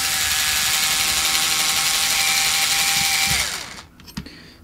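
A power drill whirs steadily at high speed, close and loud, while backing screws out of the differential plate on a Traxxas TRX4 RC truck. The whine then winds down to a stop, followed by a few faint clicks and taps of parts being handled.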